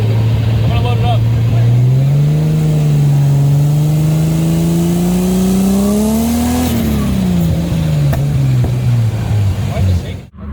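A car engine revs loudly and steadily with the car up on a jack, pitch climbing and falling as it is held under load, close by, before cutting off abruptly.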